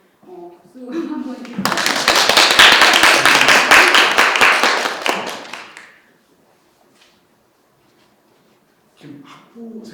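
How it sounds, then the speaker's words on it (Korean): A seminar audience at a university lecture on performance halls claps, a burst of dense applause lasting about four seconds, with brief talk before and after. "박수 한번"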